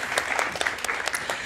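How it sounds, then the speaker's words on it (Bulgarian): An audience at a talk on physics and humanity applauds steadily, a dense patter of many hands clapping together at moderate volume across the whole short stretch. "Аплодисменти за него."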